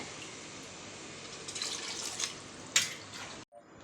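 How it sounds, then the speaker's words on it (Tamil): Water poured into a cooking pot while making tomato rice, a soft continuous splashing stream that swells and ends abruptly, close and fairly quiet with no talk. "தண்ணி ஆட் பண்ணிக்கிறேன்"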